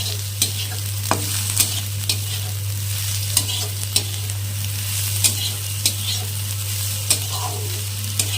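Eggplant and fenugreek greens frying in a pan, with steady sizzling under repeated sharp scrapes of a spatula stirring the mix and a constant low hum in the background.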